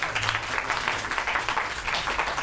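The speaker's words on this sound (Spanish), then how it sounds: "Por favor, un aplauso." Dense applause from an audience at an academic talk on gender violence, steady and moderately loud throughout the short stretch with no voices over it.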